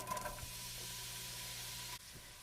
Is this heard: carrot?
yes